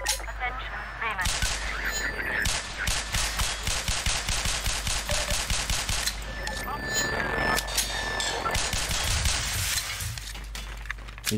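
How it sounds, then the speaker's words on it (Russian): Automatic rifle fire from enemy soldiers in Half-Life 2, long rapid bursts of gunshots with sharp metallic impacts and ricochets, loud and near, with someone talking over the shooting. "у них там еще автомат"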